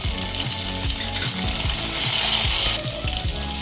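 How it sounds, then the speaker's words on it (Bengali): Two medium tomatoes, diced, go into hot oil with tempering spices while tangra fish tel jhal is cooked, giving a loud, steady sizzle with clinks of a ladle against the pan and a brief surge near the end. "মিডিয়াম সাইজের 2টো টমেটো ডুমো ডুমো করে কেটে নিয়েছি, সব দিয়ে দেবো।"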